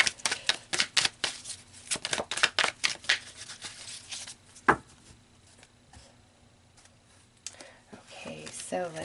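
Tarot cards shuffled by hand in a rapid flurry of crisp, close riffling snaps, followed by a single card slap and quieter handling as a person talks over it.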